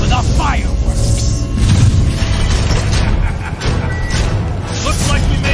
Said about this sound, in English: Just in time for the fireworks!